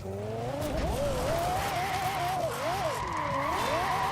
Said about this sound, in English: Couple of revs just to make sure the engine's working.